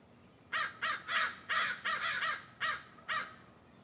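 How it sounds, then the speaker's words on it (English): Crows caw outdoors in a series of about eight harsh, evenly spaced calls, moderately distant and clear against quiet background hiss. "We got birds in the background."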